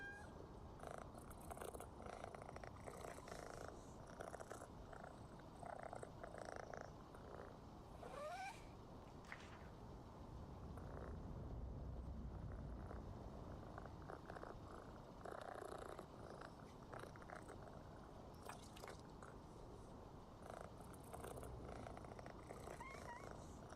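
A cat purrs continuously in a quiet room, a faint, steady rumbling close to the microphone with small rustles throughout.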